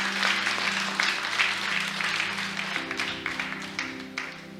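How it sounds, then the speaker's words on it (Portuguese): A church congregation applauding during a worship service, a sustained wash of many hands clapping together, moderately loud and fading slightly toward the end, with a held musical tone underneath. "Se eu fosse você, aplaude o Senhor"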